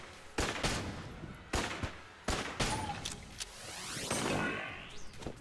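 Rifle shots from a Winchester in the video game Enter the Gungeon ring out as several sharp separate cracks, each followed by a short decay, then metallic reload and game effects near the end.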